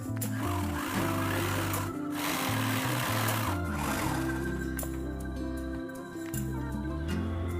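A sewing machine stitches lehenga lining with a fast, steady mechanical whirr and chatter, close and continuous for the whole stretch, with no speech.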